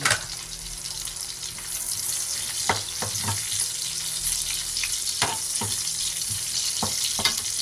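Meat frying in a pan for a Filipino monggo topping, a steady loud sizzle with sharp clinks and scrapes of stirring every second or so, no voices.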